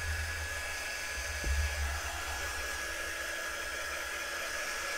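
A hair dryer runs steadily and close by throughout, drying chalk paste on a Chalk Couture bird craft, a continuous whooshing hum with a brief louder bump partway through and no talk.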